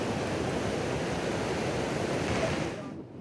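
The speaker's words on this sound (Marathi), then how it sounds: "गोदावरी नदीपात्रामध्ये गंगापूर धरणातून पाण्याचा विसर्ग सुरू झालेला आहे।" Water released from Gangapur Dam in Nashik into the Godavari river rushes in a loud, continuous broadband roar that fades out at the very end.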